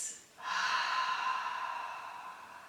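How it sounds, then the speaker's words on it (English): A long, breathy exhale through the mouth during slow yoga breathing, starting abruptly after a quiet pause and fading gently, close and soft. "breathe out fully through your mouth"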